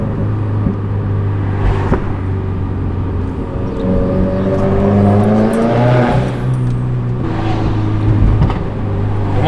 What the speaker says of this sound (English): So that people can hear what the car sounds like when it's bouncing off the walls.